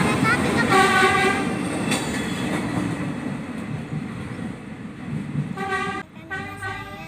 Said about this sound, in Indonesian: Iya, kereta api teman-teman.